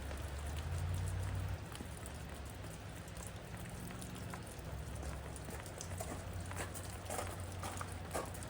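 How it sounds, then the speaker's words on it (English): Steady rain falls outdoors and patters on surfaces with a constant soft hiss and scattered drops, alone with no voices. "now we have to go outside where it is raining"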